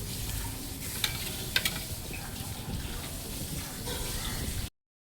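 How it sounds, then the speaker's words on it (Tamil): Fish curry bubbling in a clay pot over a low wood-fired stove, a soft continuous simmer and sizzle with faint crackles, close and steady. "குழம்பு நல்லா கொதிக்குது."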